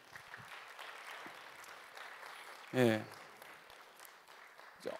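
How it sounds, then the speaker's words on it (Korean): Church congregation claps for a visiting reporter, a soft, steady patter of applause in the room, with a voice speaking briefly over it midway. "박수 한번"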